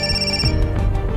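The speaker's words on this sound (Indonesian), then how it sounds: "Dan Cauran mendapat telepon, itu dari orang yang bernama Long." Telephone ringing in a film scene, a steady electronic ring tone with sustained tonal layers over a low background rumble, moderately loud and without speech.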